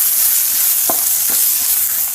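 Tamarind and spice mix sautéing in a pan for a medicinal kuzhambu, a close steady sizzle with two or three spoon scrapes against the pan, no talking.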